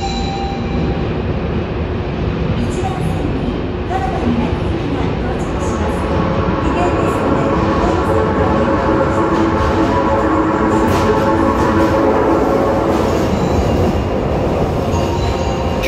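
An Osaka Metro train arriving at Taisho Station rumbles steadily with rail noise and faint squealing for the whole stretch, loud and close, with a few thin high tones later on.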